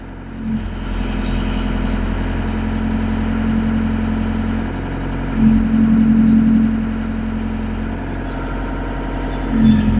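A GroundHog BH70D backhoe's engine runs steadily nearby in cold weather, a low continuous rumble with a couple of brief revs rising and falling.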